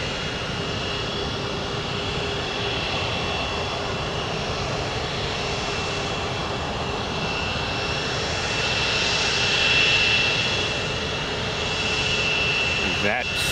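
A Dassault Falcon 50 tri-engine business jet rolls for takeoff at Tampa International, a steady broadband jet roar with a faint high whine that swells slightly near the end, heard at a distance with no talk.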